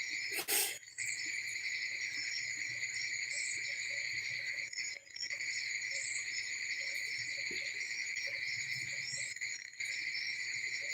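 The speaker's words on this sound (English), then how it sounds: "I'm out here listening to the frogs" A steady night chorus of high-pitched trilling calls, continuous and fairly loud, with faint low rumble beneath and a few brief gaps.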